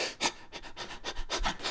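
A person imitates rapid, shallow panting breaths, a steady run of about nine quick, close, breathy puffs with no talk.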